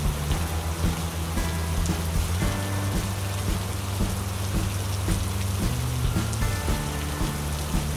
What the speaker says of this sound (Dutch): dat het regent, hè?